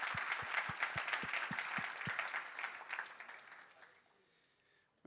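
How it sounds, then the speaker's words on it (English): An audience applauds with dense, sustained clapping that gradually thins and fades to near silence, a few sharp thumps at the start. "let's welcome him home with a big applause"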